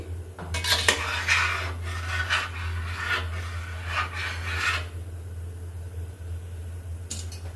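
A spoon scraping and stirring mint pulao rice with ghee in a pot, repeated close metallic scrapes in bursts for about five seconds, then near quiet over a steady low hum, one last scrape near the end.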